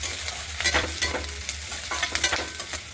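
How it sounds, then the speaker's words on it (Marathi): Onions and curry leaves frying in a pan until golden, for a dry cauliflower and peas curry: a continuous close sizzle with repeated stirring scrapes over a low hum. "कांदा छान सोनेरी कलर येईपर्यंत भाजून घ्यायचा"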